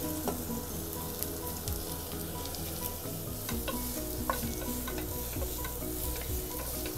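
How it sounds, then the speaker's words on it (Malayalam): Finely chopped onions, about four medium ones, sizzle steadily in a hot pan while a spoon stirs and scrapes through them, with light clinks, under no talk, for chicken biryani. "അതിലോട്ട് നമ്മൾ അരിഞ്ഞു വെച്ചിരിക്കുന്ന സവാള ചേർത്ത് കൊടുക്കണം."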